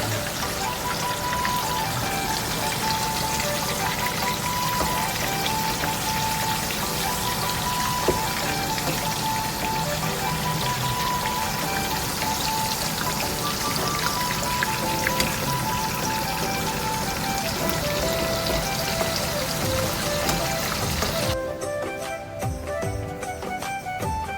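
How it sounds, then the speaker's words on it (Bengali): Eggplant slices frying in leftover hilsa fish oil, a dense continuous crackling sizzle with scattered pops filling the whole stretch close up, thinning out abruptly near the end. "ইলিশ ফ্রাই হইয়া হালে ইলিশের তেলের মাঝে আমি বেগুনটার ফ্রাই করবো"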